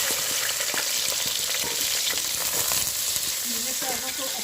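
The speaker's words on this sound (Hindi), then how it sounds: "2 से 3 मिनट तक प्याज़ों को हमने फ्राई कर लेना है" Onions fry in hot ghee with a loud, steady sizzle and crackle close by, while a spoon stirs them with repeated scraping clicks, and no voice is heard.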